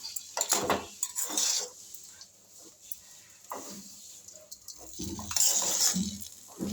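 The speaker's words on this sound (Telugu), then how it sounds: "ఇలా మనం ఆపకుండా కలుపుతూనే ఉండాలి." Utensil scraping and clinking against a pan as chapati noodles are stirred, coming in irregular bursts with quiet gaps between strokes.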